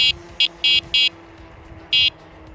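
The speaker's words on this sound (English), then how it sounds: "It does have a horn, so here's the horn." A high, buzzy electric horn sounds in five short blasts, a few quick toots then a longer one after a pause, loud over a faint background hum.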